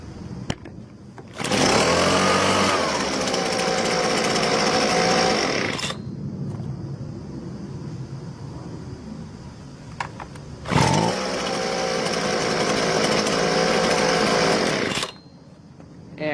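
A Husqvarna 125B handheld leaf blower, warm-started, roars loudly in two long bursts of about four seconds each, with a quieter steady idle between them and after.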